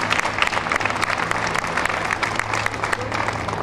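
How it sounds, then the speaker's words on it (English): A crowd at a justice caravan rally gives a warm round of applause for Brother Jackie Bryson, with dense and sustained clapping from many hands that fills the space. "Just give him a big round of applause."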